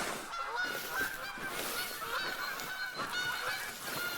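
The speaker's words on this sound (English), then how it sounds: "I can't believe how many Canadian geese there are honking away" Canada geese honking in a hunting video game, many birds calling in repeated nasal honks that overlap in a busy flock chorus at moderate distance, with no talk.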